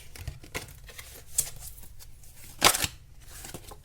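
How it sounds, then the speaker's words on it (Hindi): Tarot cards shuffled by hand, heard as close, rapid riffling and flicking with an uneven rhythm and a louder burst near the end. "ये नाम मैं शफल नहीं कर पा रही हूँ ठीक से।"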